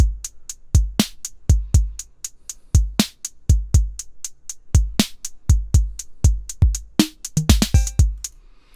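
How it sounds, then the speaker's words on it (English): A four-bar repeating drum loop played in the AUM app: punchy kick and snare hits with crisp hi-hats in a steady groove, loud and alone, ending in a quick fill. "So it sounds like a four bar repeating drum pattern,"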